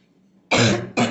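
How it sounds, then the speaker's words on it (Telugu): Two harsh, close coughs in quick succession, the second shorter, with a faint low murmur just before. "దగ్గు వస్తుందండి అసలు"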